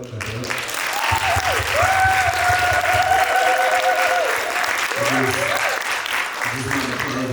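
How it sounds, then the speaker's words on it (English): Sustained audience applause at an artist summit keynote panel, a full crowd clapping loudly and steadily throughout, with a speaker's voice running over the top in stretches. "Well, clap it up,"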